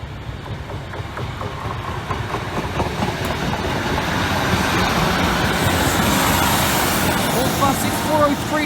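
A Class 156 diesel unit passing a level crossing at night, a broad rumbling roar that builds steadily and stays loud and close through the whole stretch, with a faint voice heard in the background.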